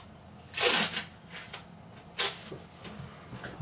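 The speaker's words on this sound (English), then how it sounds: "Just going to grab some blue tape" Blue painter's tape torn off the roll in a guitar workshop during a Fender Player Series Telecaster fret-end fix, giving two loud ripping bursts with softer handling rustles between, close and without voices.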